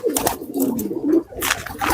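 Pigeons give low, throaty coos in repeated phrases, close by, broken by sharp bursts of rustling or flapping.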